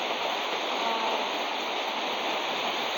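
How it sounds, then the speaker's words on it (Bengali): Steady rain falls on a village pond and the leaves around it, a dense even hiss of drops that stays constant throughout with no voices. "কীভাবে বৃষ্টির পানিগুলো করতেছে দেখতে অনেক ভালো লাগতেছে"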